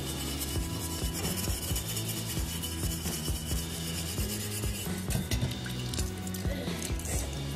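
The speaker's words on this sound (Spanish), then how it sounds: "Entonces tallamos un poco con el estropajo de fierro." Steel wool scrubs glue residue off a glass jar in continuous, harsh rasping strokes, close and steady throughout, with faint wet hints of water.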